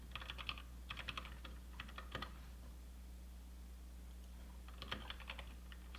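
Quiet, close typing on a computer keyboard while Python code is written, in short clattering bursts separated by pauses, over a low steady hum.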